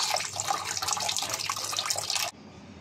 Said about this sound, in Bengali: মাছগুলো ভালো করে ধুয়ে নিচ্ছি।